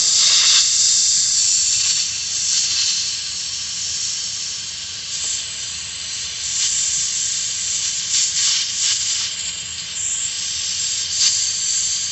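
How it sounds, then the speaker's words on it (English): Torch flame roaring steadily while melting an 18k red gold alloy for a mokume gane ingot, a continuous close, loud hiss that swells and dips slightly as the flame is moved around. "The easiest way to melt the metal purely, get a good solid melt, is to move the flame around"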